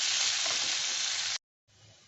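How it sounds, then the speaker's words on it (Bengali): Rice frying dry in a pan for Kanika bhog, a steady close sizzling hiss that cuts off abruptly, then resumes more softly after a brief pause. "ভালো পাঁচ মিনিট মতো ভাজতে হবে"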